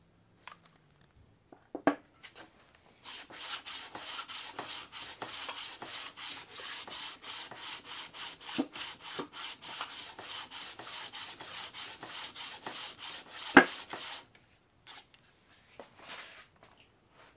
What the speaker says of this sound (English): I actually even flipped the sandpaper and put it on the bottom of the cylinder head